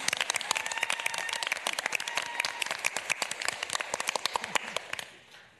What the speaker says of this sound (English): I wanted to clap too